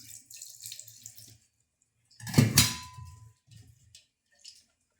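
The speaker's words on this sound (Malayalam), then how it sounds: "തുള്ളി വെള്ളം നമുക്ക് ഇതിനകത്ത് ഒഴിക്കാം" A short splash of water poured into a container for about a second, then a few soft clinks and quiet.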